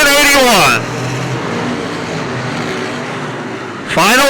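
A wingless sprint car in a UMSS race at Cedar Lake Speedway roars past close by on the front straightaway, its engine note dropping as it passes. A steady, loud engine drone follows, and another car surges in near the end.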